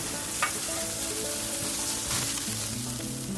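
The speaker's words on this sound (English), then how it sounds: "When I see a little bit of smoke start to come up from those barrel staves, I'll sear my 2 beautiful steaks." Two steaks sear on a hybrid fire grill with barrel staves, giving a steady close sizzle and crackle that continues alone without pause.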